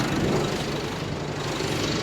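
Diesel idle of a 2018 Isuzu All New Space Cab pickup with a fresh 1.9 Ddi engine, a steady close rumble holding an even level throughout with no talk over it.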